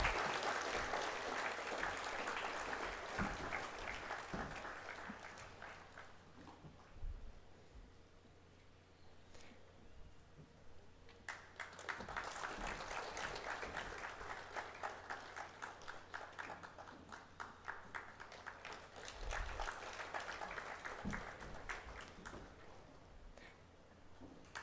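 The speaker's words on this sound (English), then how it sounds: "Come on, let's give them a round of applause" Graduates at a graduation and awards ceremony receive a long round of applause from the audience, dense clapping that swells, eases, then rises again over about twenty-five seconds.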